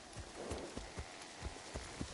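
Horse hooves clip-clop at a slow walk in the video game Assassin's Creed Shadows, each soft thud about a quarter second apart, over a constant airy background.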